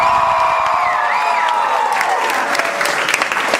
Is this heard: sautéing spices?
no